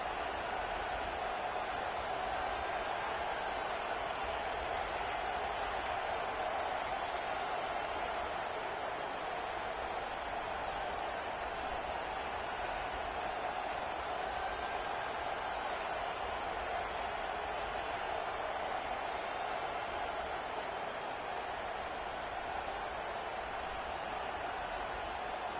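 Football stadium crowd roaring steadily during a defensive timeout, a dense, continuous wall of noise that holds at the same level throughout with no breaks.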